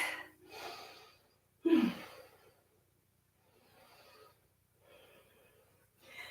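Heavy breathing while catching breath after a yoga flow, with a few separated exhales and gasps, one sharper and louder, then softer breaths trailing off in a quiet room.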